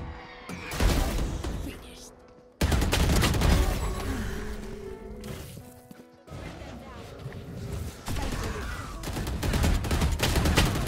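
Vandal rifle fire in the shooter video game Valorant: repeated sharp gunshots and bursts recurring across the clip, mixed with game effects and a talking voice.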